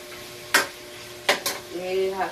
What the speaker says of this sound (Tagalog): Ilagay natin itong natira natin pork chop.